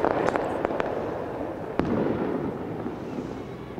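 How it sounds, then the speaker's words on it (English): Warning fireworks set off by lookouts in a Rio de Janeiro favela in 2001: several sharp cracks and bangs early on, one louder burst midway, over a continuous noisy outdoor background, no talk. "Within minutes of our arrival, the warning fireworks are set off."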